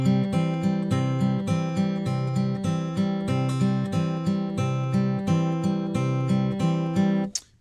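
A Travis-picking pattern on acoustic guitar, with the thumb on the beat and melody notes falling off the beat in a bouncy, continuous groove. Played close and solo before it stops abruptly.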